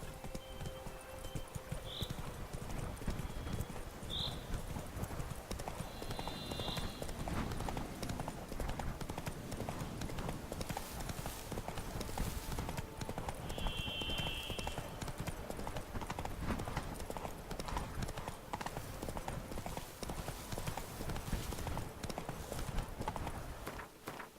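Horse galloping in The Witcher 3, a loud continuous rhythmic clip-clop of hooves throughout, with occasional brief tonal game sounds over it.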